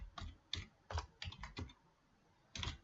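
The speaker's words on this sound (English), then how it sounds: "simply type a couple of extra fields on the bottom there" Computer keyboard typed on in short clusters of soft, close keystrokes while entering fields into an Excel worksheet, with pauses between taps and a final burst after a brief silence.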